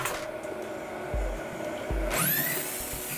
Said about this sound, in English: the rivets are now punched through